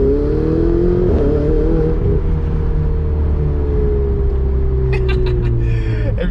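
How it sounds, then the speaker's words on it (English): A Ferrari 488 Spider roars down the road, a loud, sustained engine drone with rising and falling revs, heard close and continuous with a few sharp clicks near the end. "every time you hear the car roaring down the road"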